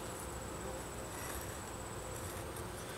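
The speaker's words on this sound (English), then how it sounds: "But the bee population has been doing really good so far." Honeybees in a cathedral-style hive drone continuously during a hive inspection, a dense, steady, fairly faint hum with no break and no speech.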